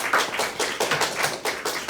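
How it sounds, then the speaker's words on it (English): A small crowd claps in a round of applause after a tournament match, a dense patter of hand claps rising and falling in bursts, fairly close and without talk. "You give another round of applause,"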